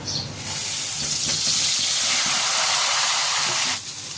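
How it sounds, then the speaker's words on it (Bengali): Long-cut eggplant pieces go into hot oil left over from frying rohu fish and set off a loud, bright hiss and sizzle. The sizzle starts sharply, holds steady for a few seconds, then eases slightly. "মাছ ভাজার তেলে বেগুনগুলোকে হালকা করে ভেজে নেব"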